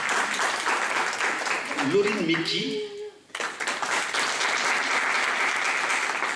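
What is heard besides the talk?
audience applause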